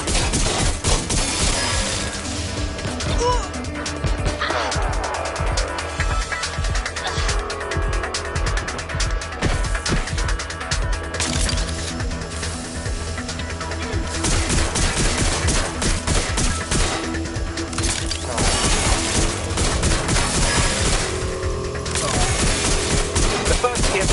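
Sustained automatic gunfire in the Watch Dogs Legion video game, loud, dense bursts of shots with crashes and vehicle noise, continuing almost without pause.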